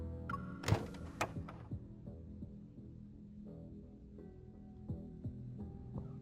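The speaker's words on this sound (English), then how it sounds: "I reach out to open the hatch door." A sci-fi hatch door in the game Love & DeepSpace opens with a sharp mechanical clunk and a second thunk, followed by a low electric hum and soft clicks and whirs as the door slides.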